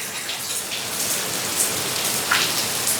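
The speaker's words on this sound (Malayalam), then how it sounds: "നല്ല മഴയാണ്." Heavy rain pours steadily outside a house during the monsoon season, a dense, continuous hiss of drops hitting the ground and surfaces, with no voices heard.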